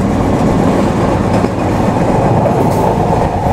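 Rupsha Express, a Bangladeshi intercity train from Khulna, running at speed through Singia Junction on new track, a loud continuous roar heard from on board with rhythmic clickety-clack of the wheels and no voices.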